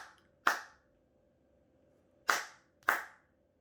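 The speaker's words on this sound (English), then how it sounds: "Yeah, clap." Three sharp hand claps, two close together after a pause, struck along to a clap-clap-blink-blink rhythm game in a pre-K classroom, with quiet room tone between.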